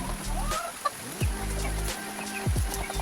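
Several chickens clucking in short, scattered calls over a steady low background hum, with a few quick descending chirps mixed in.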